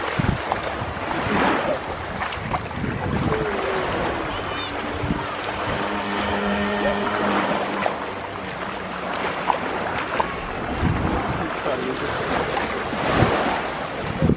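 Sea waves on the Croatian coast, a continuous rushing surf mixed with strong wind buffeting the microphone, loud and close, with faint voices and a brief tonal whine partway through.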